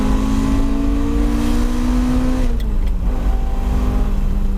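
A Ferrari on a test drive cruises with a steady engine hum. Its pitch drops slightly partway through as it shifts or eases off, under constant road and wind noise.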